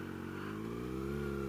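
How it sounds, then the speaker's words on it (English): Loud motorcycle exhaust with a steady engine drone while the bike is ridden in sixth gear at about 38, holding a continuous rumble with a slight rise in pitch toward the end. "Oh yeah, this exhaust is so loud."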